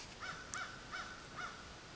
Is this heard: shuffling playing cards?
no